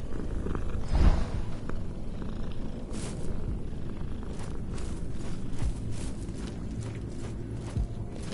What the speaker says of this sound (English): oh, that cat, he was purring so loudly